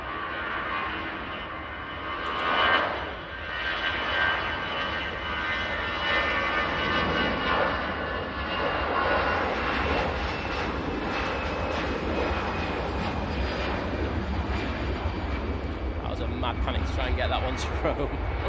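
EasyJet jet airliner taking off at Manchester Airport, a steady distant roar of jet engines running throughout, with someone talking over it.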